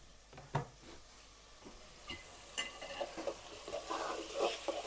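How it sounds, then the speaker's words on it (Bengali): Vegetables fry in a pan for khichuri with salt and turmeric added, a soft sizzle broken by a spatula scraping and stirring at irregular intervals, moderately close and with no voices. "সবজিটা ভাজা হতে হতে"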